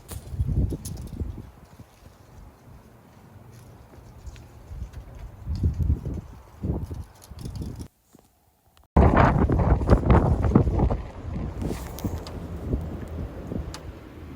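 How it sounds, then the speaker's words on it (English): Strong wind gusting around 20-25 mph buffets the microphone outdoors in loud rumbling gusts, dropping briefly to near silence before surging back even harder. "The wind is whipping. I'm guessing it's gusting at least 20-25 miles per hour."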